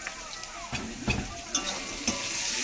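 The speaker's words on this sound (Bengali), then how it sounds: "পেঁয়াজটা ততক্ষণ ভালো করে লাল করে ভেজে নেবো" Onion frying in a pan for egg curry, a soft, steady sizzle with a few light stirring scrapes and taps, fairly quiet and close.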